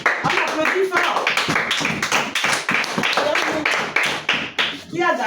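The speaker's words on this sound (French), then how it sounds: "Applaudissez pour ça. On applaudit fort." Children at a Sunday church service clap together in a fast, loud, rhythmic burst of hand claps lasting several seconds, with voices talking over the clapping.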